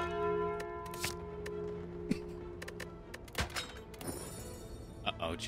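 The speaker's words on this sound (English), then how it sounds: "There appears to be a bell." A bell rings in the card game Slay the Spire from the Calling Bell relic, with tonal chimes and sharp percussive hits over game music and sound effects.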